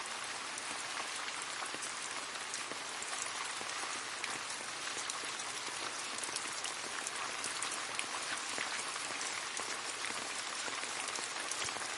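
Steady summer rain patters densely on leaves, an even, unbroken hiss of countless drops without pause or voices.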